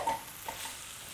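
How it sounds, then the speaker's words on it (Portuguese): Food sizzles and fries in a pan while cooking a Japanese-style curry (karê), a steady soft crackle with a couple of faint stirring knocks, no voices. "Agora, o barulho da panela mudou. Olha como agora tá. Já tá com barulho de fritura."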